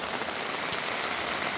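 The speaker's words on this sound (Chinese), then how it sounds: "我第一次拿来就直接测试下雨天" Rain falls on a Thous Winds Cancer large motorcycle camping tent, making a dense, even hiss heard from inside, with one slightly sharper drop partway through and no talking.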